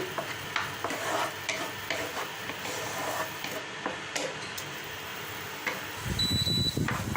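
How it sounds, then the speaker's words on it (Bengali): Mango puree is stirred in a pan over a low flame, with repeated quiet scraping strokes and soft utensil taps against the pan, then a louder rumbling scrape near the end. "ভালো কথা পর্যন্ত আমি নাড়তে থাকবো, ঘন ঘন নাড়তে হবে, নাহলে তলায় লেগে যেতে পারে।"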